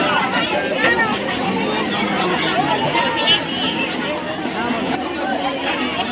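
Dense crowd chatter at the Annakut festival fair for Siddheswari Maa, a steady close babble of many overlapping voices with no single speaker standing out, continuing evenly throughout.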